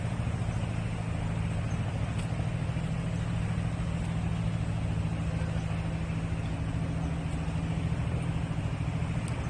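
A 4-stroke gasoline engine fitted to a bicycle runs steadily with a low, even droning hum and constant mechanical buzz, moderately close, with no talk over it.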